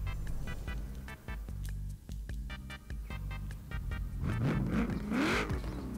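A Nissan 240 car in the Forza Horizon 4 racing game revs and drives past, its engine note rising and roaring close by over a steady game backdrop, with a tire-like squeal near the end.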